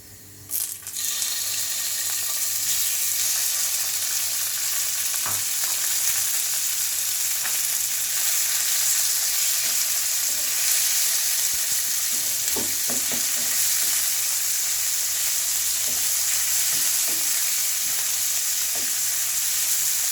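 Chicken frying in a pan for chicken fried rice, a loud steady sizzle lasting throughout with occasional scraping and clinks as it is stirred, no talking.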